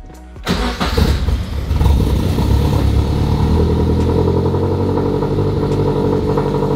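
A turbocharged Subaru BRZ cranks and fires up, the engine catching quickly and settling into a loud, close, rough idle with no talking.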